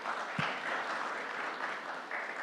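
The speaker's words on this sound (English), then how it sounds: "a round of applause for our panel" Audience applause for a panel at a health conference, a brief wash of clapping from a moderately distant crowd.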